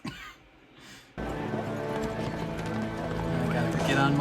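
A horse gallops in a dramatic fantasy drama scene: rhythmic hoofbeats start abruptly after a quiet moment and keep pounding steadily, with music and other sounds layered over the running.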